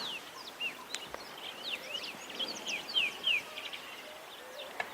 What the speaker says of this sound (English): we're hearing just a few fish bubbling in the water and a lot of different bird calls